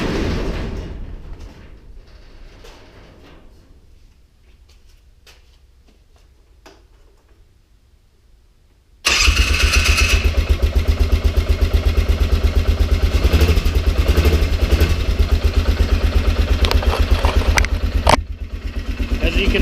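A Polaris Sportsman 400 ATV with a cheap big bore kit fires up after a quiet stretch with a voice, then idles loudly and steadily with a fast ticking rattle.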